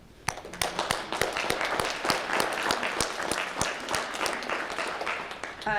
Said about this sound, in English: So I want to give you guys a round of applause